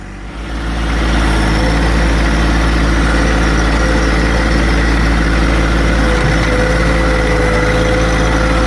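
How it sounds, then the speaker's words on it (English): A John Deere 2025R compact tractor runs steadily while plowing snow along a road, its engine giving a constant loud droning rumble that never breaks, and nobody speaks. "Just kind of plowing my road back to my wood yard"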